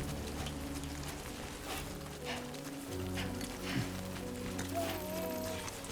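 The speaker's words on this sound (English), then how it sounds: "The rain seems like it's not a positive thing." A constant wash of rainfall in the video game Death Stranding 2 over low droning background music, with a brief rising tone near the end.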